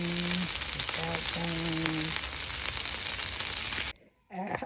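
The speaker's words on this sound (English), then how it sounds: "Cook you some bacon" Bacon sizzles and crackles steadily in a pan, loud and close, with a voice briefly audible over it before the frying cuts off abruptly near the end.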